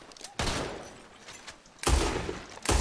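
Video game gunshots ring out in three sharp, loud bursts spaced over a few seconds, each with a short crackling tail against a quiet background.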